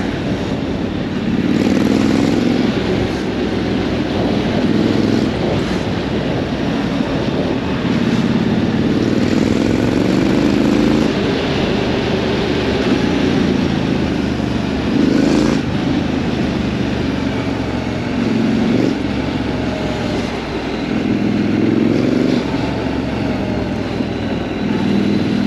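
A Triumph Scrambler 900 motorcycle on a ride, its engine holding a steady, rumbling drone under constant wind rush. The sound runs unbroken for the whole stretch with only slight swells, and no one speaks.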